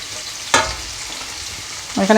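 Chopped onion, ginger and garlic sizzle steadily in a hot pan, with a close, even frying hiss and a couple of sharper stirring scrapes.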